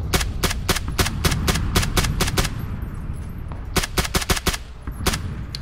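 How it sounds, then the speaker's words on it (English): Rapid bursts of automatic gunfire in a PUBG match, loud, closely spaced cracking shots in two volleys separated by a short pause, then a few scattered single shots near the end. "I'm gonna shoot him."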